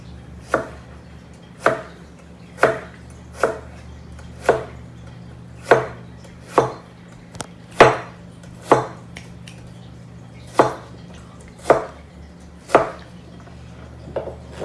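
A chef knife dicing a white onion on a cutting board strikes in crisp, evenly spaced chops, about fifteen in a steady rhythm, close and clear with no talking.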